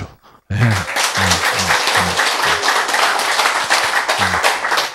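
A lecture audience claps together after a talk on genes and T cells, a loud, dense burst of applause that starts abruptly and carries on steadily, with a few sharper individual claps standing out.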